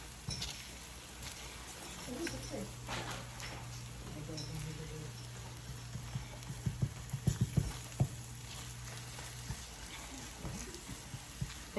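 Garlic sizzling and frying in a pan, a steady soft crackle with occasional clinks and scraping of utensils, fairly quiet, with talk over parts of it.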